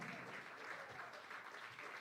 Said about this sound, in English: They're going to give you a round of applause as you do.